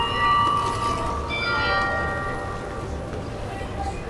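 A church bell rings in Bruges, Belgium, a few resonant strikes that ring out and decay over a murmur of street ambience, with faint voices nearby.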